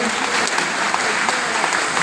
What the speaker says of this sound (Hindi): तो एक बार बहुत जोरदार तालियां बजाइए आप गामा रिजनॉल के लिए